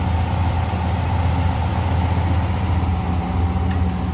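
A 1957 Pontiac Star Chief Catalina engine idles close up with the hood open, a steady, loud, low rumble with an even pulsing beat and no speech over it.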